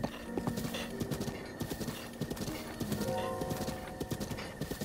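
Rhythmic clip-clop of horse hooves trotting steadily, with a horse whinny and some background noise, from the video game Zelda: Breath of the Wild.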